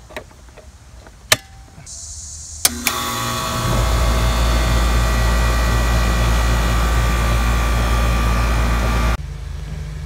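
A central air conditioner compressor with a hard start kit connected kicks on after a few clicks and thumps, then settles into a loud, steady mechanical hum and drone that cuts off abruptly near the end.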